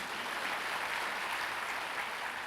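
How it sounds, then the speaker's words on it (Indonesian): Congregation applause at a Sunday morning church service, a continuous even wash of many hands clapping, moderately distant and alone without talk. "Boleh kalau mau tepuk tangan, boleh."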